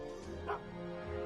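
A dog in an adventure video game gives a short bark and whimper, brief and close, over a low background hum.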